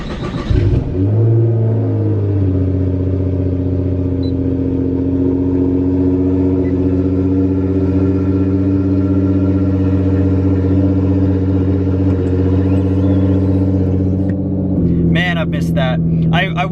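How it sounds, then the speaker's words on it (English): A Nissan GT-R sports car engine cranks and fires on a cold start, then settles into a loud, steady high idle that drops slightly before a brief rev near the end. "this is going to be a cold start"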